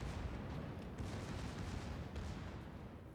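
Secondary battery guns of a Mutsu Tier 6 Japanese battleship firing in World of Warships, a dense, continuous low rumble of rapid booming shots running through the whole moment without pause.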